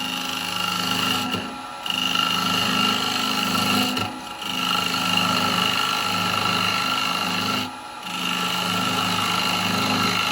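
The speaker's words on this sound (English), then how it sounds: "I'm going to use a spindle gouge at first to do this" A spindle gouge cuts into spinning wood on a lathe, a loud continuous rasping hum over the motor drone, with the cut briefly easing off three times before resuming.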